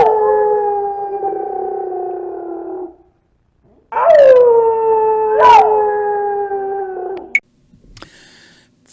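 A dog howls along with a tune, long wavering howls rising and falling in two sustained stretches with a short pause between, followed by quieter brief sounds at the end; loud and close.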